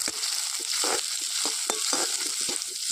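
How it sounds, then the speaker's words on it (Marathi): Chopped onion with mustard seeds, cumin and curry leaves sizzles steadily in hot oil, broken by repeated scraping stir strokes at an uneven rhythm. The sound is close and fairly loud, with no talking. "कांदा असा आपला थोडासा गव्हाळा कलर येईपर्यंत परतून घ्यायचं आहे"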